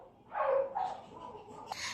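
A dog in a home kitchen gives a short bark and then lower whining yelps that trail off, fairly close and moderately loud, with a brief sharper sound near the end.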